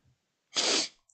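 One quick, hissy sneeze up close, preceded by a faint breath and followed by silence.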